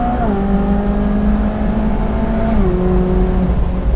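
A 2015 Ferrari 458 Speciale Aperta screams as it winds up high under acceleration, the loud engine note climbing then dropping at quick gear shifts before rising again, heard from the cabin with no talking.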